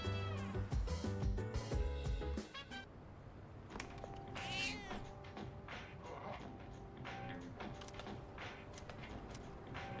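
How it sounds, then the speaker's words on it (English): A cat meows and purrs in the Persona 3 Reload video game, set against game music and soft tapping sounds, with a busy harmonic passage at the start that settles into a steady background. "The cat is purring loudly."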